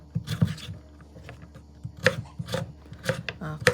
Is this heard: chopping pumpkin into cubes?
yes